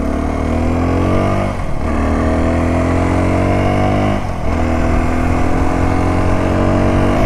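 Aprilia SX 125 single-cylinder motorcycle (2021) fitted with an Arrow exhaust, ridden while warming up: a steady, loud engine drone with rising and falling pitch as it shifts and accelerates, close to the microphone with no talking.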